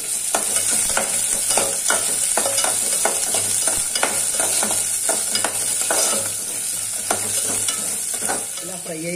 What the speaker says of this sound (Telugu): ఇలా కొద్దిగా ఫ్రై అయ్యాక ధనియాలు, జీలకర్ర, వెల్లుల్లిపాయ వేసుకోవాలండి.